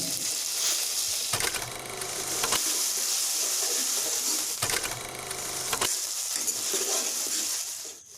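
Garlic paste frying in a pan for a capsicum masala, a continuous close sizzle with two short bursts of louder stirring and scraping.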